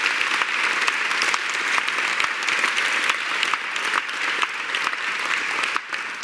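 Sustained applause from a large gala audience, dense steady clapping that carries on without pause.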